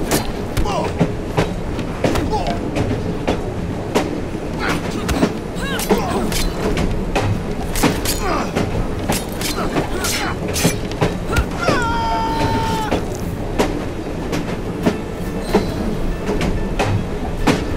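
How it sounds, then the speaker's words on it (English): A steam-era train in Assassin's Creed Syndicate rolls steadily with dense clattering wheels, metallic rattles and rumble, continuous and loud, a brief whistle-like tone midway and game voices now and then. "at least we have a train now"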